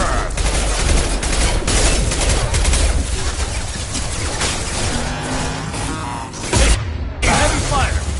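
Dense, continuous heavy gunfire and sustained automatic bursts from a Mass Effect 2 firefight on PS5, loud and relentless with short breaks near the end, mixed with voices calling out during combat.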